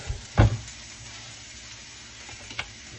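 A beef pot roast is set into a hot pan with a sudden loud sizzle that fades into a low steady frying hiss, followed by a few soft ticks and a small crackle near the end.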